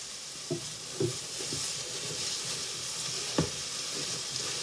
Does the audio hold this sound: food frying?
yes